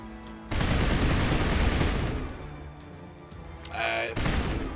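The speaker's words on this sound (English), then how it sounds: "we could try the high explosive rounds on the assault rifle" An assault rifle loaded with high explosive rounds fires in Mass Effect, a sustained loud burst of rapid shots and blasts for several seconds, easing off, then another short burst near the end.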